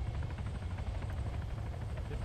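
Steady loud rotor drone of a helicopter in the military video game Arma 3, a continuous low thudding roar with a fast pulsing beat throughout.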